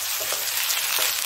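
Shrimp fried rice sizzles steadily in a hot pan as it is stirred, a close, continuous crackling fry with faint scraping textures running through the short stretch.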